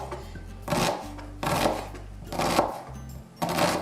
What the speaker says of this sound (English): I'm just going to chop it as small chunks as I can.